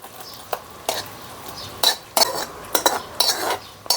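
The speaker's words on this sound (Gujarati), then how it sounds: "ગેસ બંધ કરી દઉં અને બાઉલમાં લઈ લઉં શાક" Ripe banana curry being scooped from a pan into a bowl, with a handful of sharp, clustered clinks and scrapes of a spoon against metal and ceramic, close and fairly quiet.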